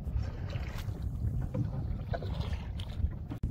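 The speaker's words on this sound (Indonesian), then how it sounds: "Oke teman-teman, kami mendayung dulu ya." Paddling a traditional fishing boat at sea off Salakan Island, Banggai, in stormy weather with the engine broken down; steady low rumble of water and wind noise around the hull, fairly loud and continuous, with no talk.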